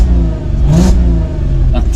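Restored barn-find VW Golf R32 with its 3.2 engine, after a seized piston was fixed, revving up close and loud in a short raspy burst before settling back to idle.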